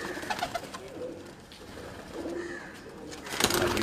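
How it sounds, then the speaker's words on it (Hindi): Pigeons coo at Ustad Dr. Ishtiaq's house in Mirpur, Azad Kashmir, soft repeated low coos at close range with light rustling and faint background sounds. "ये सारे कबूतर जो हैं उन्हीं के घर के कबूतर आपको दिखाए जा रहे हैं।"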